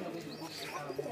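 Pigeons coo softly in a loft where birds are kept and eggs are hatching, low murmuring calls over a brief moment with faint background noise.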